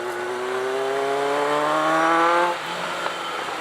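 Kawasaki ZR-7 motorcycle engine while riding, a steady whining drone whose pitch climbs smoothly as the bike accelerates, then drops back, with wind noise around it.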